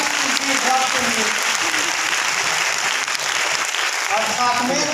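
A crowd gives a hearty round of applause for Panch Tulsi Drops at a product presentation. The clapping is dense and steady, fills the full five seconds at close range, and faint voices sit beneath it.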